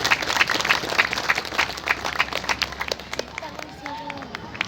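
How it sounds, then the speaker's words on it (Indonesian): Audience at a Hindu religious sermon in Serang, Banten applauding, rapid dense clapping that fades out as a voice continues over it. "Kita tepuk tangan semuanya."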